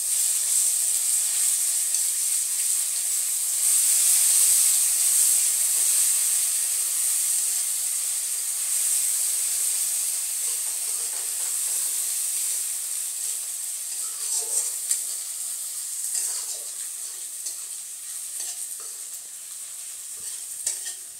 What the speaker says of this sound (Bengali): এই রসুন বাটা নিয়ে নিলাম, রসুন বাটাটা লাল হয়ে গেলে